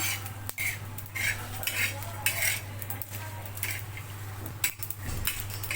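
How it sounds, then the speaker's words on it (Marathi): Gravy masala spices are dry-roasted in a pan at home, with a spoon scraping and clinking against the metal in irregular strokes over a steady low hum. There is no talk. "याला पण आपल्याला छान लालसर होईपर्यंत भाजून घ्यायचं आहे"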